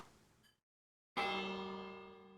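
A redstone-triggered bell in Minecraft Bedrock, during an archery game, gives a faint distant strike, then after a short silence a louder ringing clang that sustains and slowly decays.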